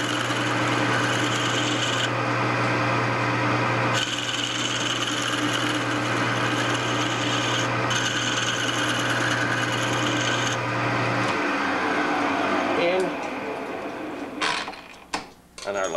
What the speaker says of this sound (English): we'll draw the boring bar out under power.